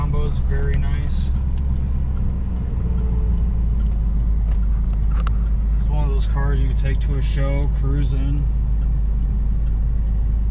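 A 1990 Chevy Corvette ZR1 engine idling smoothly, a steady deep low rumble running continuously under someone talking throughout.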